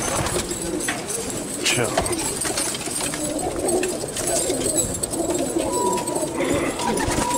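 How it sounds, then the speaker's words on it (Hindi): Newly released pigeons, part of a flock of about seventy to eighty birds, coo repeatedly at close range over a dense, rustling outdoor background, while someone speaks briefly. "ये कबूतर कल ही लाके छोड़ा रात में, 15 दिन के बाद मिलाएंगे 70-80 कबूतर।"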